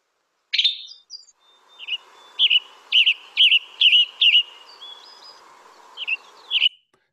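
A Western tanager sings a series of short, burry, robin-like phrases in an outdoor field recording, clear and fairly close, separated by brief pauses, with a faint steady hum beneath.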